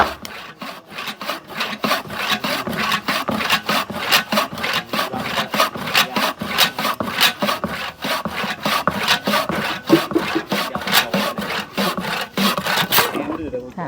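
Rapid, steady back-and-forth sawing through wood, loud and close, strokes repeating evenly for the whole stretch before stopping at the end.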